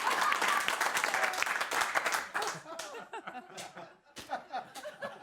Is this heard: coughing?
no